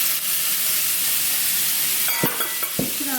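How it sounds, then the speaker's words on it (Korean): Chives and onion stir-fried briefly in a hot pan give a continuous hissing sizzle, with a few sharp scraping clatters of a spatula near the end, close and without talk. "부추랑 양파는 넣고 조금만 볶아주세요"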